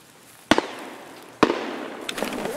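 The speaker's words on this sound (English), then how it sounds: "I feel like I'm being shot at." Two sharp, loud gunshots about a second apart ring out in Escape From Tarkov on the Streets of Tarkov map, each followed by a decaying echo, with fainter crackling reports trailing after.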